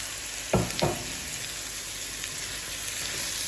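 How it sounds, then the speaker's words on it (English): Potatoes drop into a hot buttered pan with two quick thumps and spatters, then settle into a steady, even sizzle that carries on close and unbroken for zucchini soup. "So I'm just going to throw these potatoes in now."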